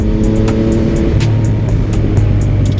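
A Yamaha MT-09 motorcycle in aggressive mode pulls hard in first gear, its engine note rising loud and close with a steady rasping roar and a brief shift in pitch.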